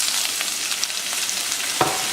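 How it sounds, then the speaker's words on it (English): Ginger, garlic and spring onion sizzle in hot oil in a wok for beef fried rice, a steady close hiss with a sharp stirring clack near the end. "we pour some more cooking oil onto the wok and then start putting the ginger, garlic and spring onion into the wok"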